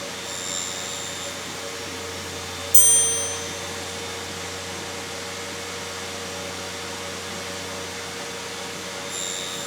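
A mini table saw with a sled cutting small box parts, its motor giving a steady, high whirring drone that stays level, with one brief sharp bump partway through as a part is cut.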